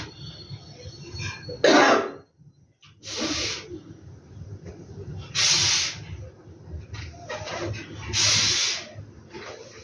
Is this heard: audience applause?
no